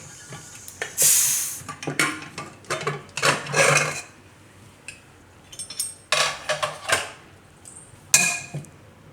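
A pressure cooker lid being opened after boiling drumsticks (saragva), with a run of close metallic clanks, scrapes and rattling clicks in separate bursts, alone without talk.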